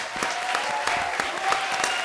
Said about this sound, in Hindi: एक बार हमारे आज के स्पेशल गेस्ट सनी लियोन और सचिन जोशी के लिए जोरदार तालियां हो जाएं.